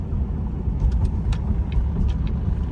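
A cammed Chevrolet Corvette C7 drives on the highway, its deep, lumpy engine rumble loud and steady with a few faint clicks on top.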